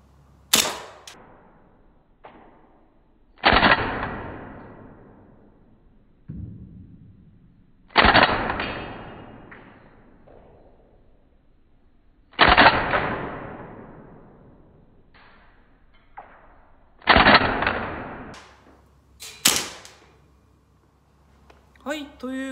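Gas blowback airsoft rifle built from a MAGPUL X-22 Backpacker conversion kit firing single shots: five sharp, loud cracks several seconds apart, each with a brief metallic bolt clatter and softer handling clicks between.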